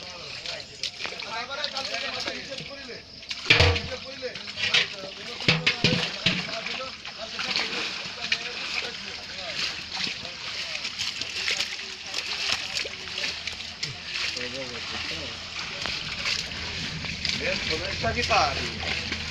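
Water splashed and beaten by hand during net fishing, irregular loud splashes and sloshing bursts under excited shouting voices.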